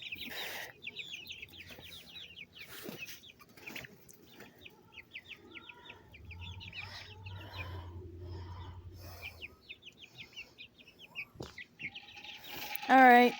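Chickens, including ones with mohawk-like and afro-like crests, cluck and chirp in short repeated calls from a coop, steady under a faint voice, with a low rumble in the middle and a louder bird call near the end.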